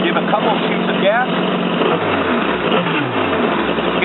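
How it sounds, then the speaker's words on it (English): A jet ski engine during a salt flush, given a couple of quick throttle blips to clear water from the exhaust, a loud steady engine rumble with short rising rev swells, and someone talking over it. "You're going to give a couple of shoots of gas"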